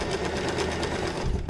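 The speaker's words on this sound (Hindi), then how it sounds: "अब मशीन पर सिलाई लगाएंगे" A sewing machine runs in a fast, even stitching rattle while sewing a fabric sleeve, loud and close with no speech.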